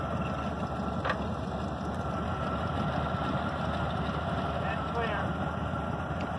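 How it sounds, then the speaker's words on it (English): A forklift engine with broken power steering runs steadily while a cultivator is loaded onto a trailer, giving a continuous low rumbling drone close by throughout, with someone talking at times. "the power steering doesn't work on this forklift"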